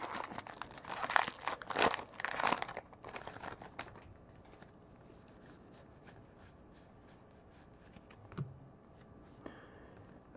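Foil wrapper of a Magic: The Gathering Journey into Nyx booster pack crinkling and tearing as it is opened, loud crackly bursts in the first few seconds, then quieter handling with a couple of brief crunches.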